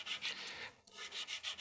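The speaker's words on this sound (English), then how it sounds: "As I'm finishing the sanding" Soldered metal ring being sanded by hand, rhythmic rasping strokes close up, one longer stroke, a brief pause, then several quicker back-and-forth rubs, with no talking.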